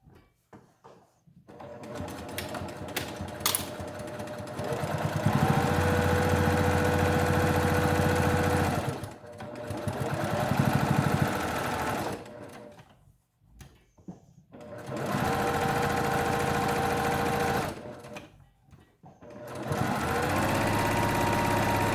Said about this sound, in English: you're going to top stitch around the entire mask and just staying again close to the edge of your